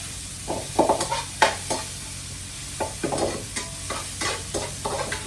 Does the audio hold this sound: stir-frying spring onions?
yes